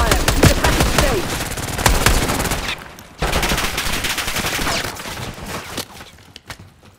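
Gunfire in Call of Duty Black Ops 6 on the Nuketown map crackles as sustained automatic bursts and single shots, loud and close, with a short pause partway through and faint voice callouts mixed in.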